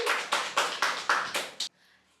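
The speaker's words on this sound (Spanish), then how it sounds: "Así que fuertes aplausos." A brief run of about seven crisp, evenly spaced hand claps that stops abruptly, followed by near silence; the claps sound close and sparse, like a single person or a small group rather than a large crowd.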